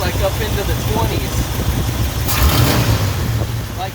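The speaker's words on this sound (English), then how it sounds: "So if I whip the throttle open real quick and let off, vacuum should drop almost to zero" A 1978 Ford F150 engine idles low and steady. The throttle is snapped open briefly partway through for a quick rev, then released back to idle. The truck has bad exhaust leaks.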